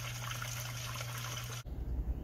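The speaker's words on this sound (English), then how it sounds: "All right, so you can hear the water flowing now," Water rushes steadily while the engine block of a 2001 Dodge Ram 1500 is flushed into a basin, then cuts off abruptly, leaving a low, uneven rumble.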